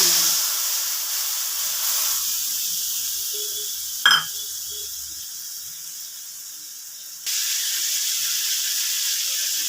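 Spice paste of salt, turmeric and chilli powder frying in oil with browned garlic for a bowal fish curry gives a steady close hiss and sizzle, broken by a sharp knock near the middle, with no talking.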